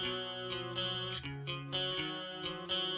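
A single electric guitar take recreating a classic rock song, with distorted, chorused tone playing sustained chords that change every half second or so, loud and close with no voices.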